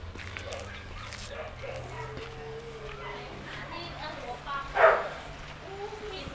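Dogs in a shelter care unit give a faint bark and whimper, one brief louder yelp standing out over a steady low hum of background noise.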